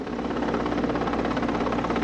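Helicopter in flight over mountainous, earthquake-damaged terrain in Haiti, a steady loud rotor and engine drone with continuous chopping throughout, close and alone with no voices.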